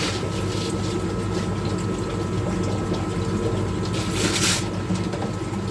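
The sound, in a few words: air pump running as water goes into Easypod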